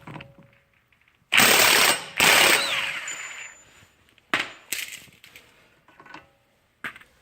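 A 32 mm socket on a ratchet zips off a Mini Cooper wheel-bearing axle nut, giving two loud, close bursts of rapid pawl clicking, then a few scattered metallic clicks and taps.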